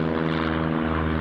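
Aircraft passing directly overhead near Newcastle International Airport: a loud, close, steady engine drone with strong layered tonal hum, heard alone for just over a second.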